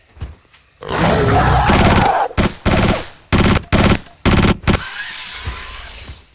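Bursts of rapid automatic fire from a VZ61 submachine gun in the game Trespasser: one long opening burst followed by several short, loud bursts with brief gaps, close and dominant.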